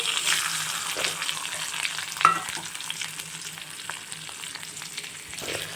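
Sliced onion frying in a pan for masala dosa, cooked toward golden brown: a steady close sizzle runs throughout, with occasional stirring scrapes and one sharper clink midway.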